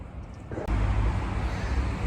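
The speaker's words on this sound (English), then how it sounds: "Sorry for any traffic noise that you can hear." Steady traffic noise on a town street, a continuous low rumble of passing cars that swells suddenly and stays loud and close, with no voices.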